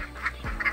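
Laying ducks on a farm, moulting their feathers, give a couple of short nasal quacks in quick succession, moderately close and with no one talking.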